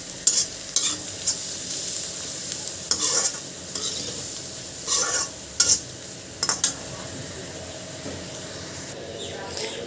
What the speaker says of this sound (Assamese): এইখিনি ভালকৈ ভাজি লৈ পেলাই আমি তাৰপিছত মছলা এড কৰিম